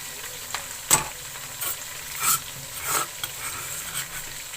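Chicken pieces frying in a pan for a palak chicken dish give a soft, steady sizzle, broken by periodic scrapes and clinks of stirring, with no talk.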